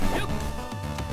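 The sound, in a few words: dog howling and barking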